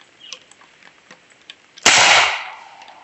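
An AEA Harpoon Magnum air shotgun loaded with number 4 shot fires one sharp, loud blast that rings and fades over about a second, after a stretch of faint clicks and quiet background.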